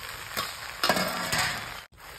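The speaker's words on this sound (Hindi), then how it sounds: "इसे ढक ढक कर धीमी आंच पर पकाएंगे। बीच बीच में इसे चलाते रहेंगे।" Poi saag greens frying in a pan, a steady sizzle broken by a few scraping stirs of a spoon, close up and without talk, with a brief drop near the end.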